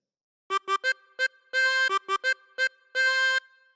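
Chromatic harmonica plays a phrase of Old MacDonald Had a Farm, a quick run of short clipped notes broken by two longer held notes, bright and close with no other sound.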